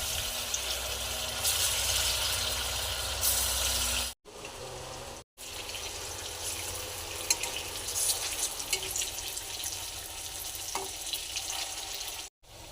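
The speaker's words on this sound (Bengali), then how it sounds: "এক এক করে তেলের মধ্যে দিয়ে দেবো।" Chira (flattened rice) pakoras fry in hot oil with a continuous, close sizzle, broken by two brief cuts of silence and ending abruptly.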